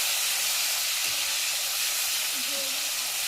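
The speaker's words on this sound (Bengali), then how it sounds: "পনির আগে ভেজে নেব" Paneer cubes frying in a pan with a light salt sprinkle give off a steady broadband hiss and sizzle throughout, with a couple of faint clinks beneath it.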